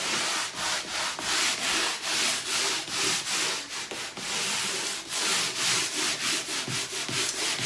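A wooden dresser top is rubbed down by hand to level and smooth its rolled-on painted finish, a steady series of close, rhythmic scrubbing strokes with no talking.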